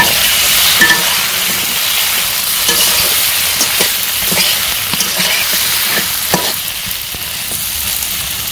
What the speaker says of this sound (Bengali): আমার পটল ভাজা হয়ে গেছে, পটল ভাজা নামে নিব।